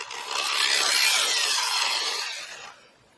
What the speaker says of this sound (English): here I got a drill. Let's put this Q-tip in here